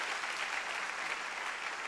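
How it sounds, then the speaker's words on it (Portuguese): Steady applause from a church congregation during a Sunday service fills the whole stretch, a dense even patter of many hands clapping without a break. "quem pode aplaudir a Jesus?"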